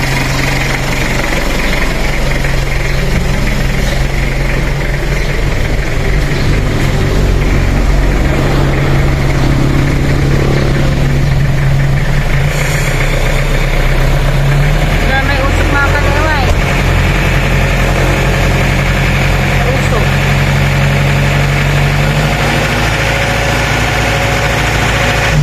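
Second-generation Mitsubishi Pajero 4x4 with a 4M40 diesel, treated with Wonderlube engine treatment, idling up close. It gives a steady, loud rumble with a faint knocking vibration that continues throughout, while people talk over it at times.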